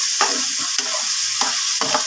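Chicken with bagoong stirred in a pan sizzles steadily and loudly, with several scraping strokes of a utensil against the pan in an uneven rhythm.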